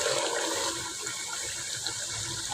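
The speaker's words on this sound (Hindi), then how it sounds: "तो ये देखिए थोड़ा थोड़ा पानी डालते जाएंगे और इसको जो है भुनाई करते जाएंगे।" Water is poured in small amounts into chicken chole while it roasts in a pan, giving a steady, soft rushing and splashing hiss that lasts the whole time with no voices.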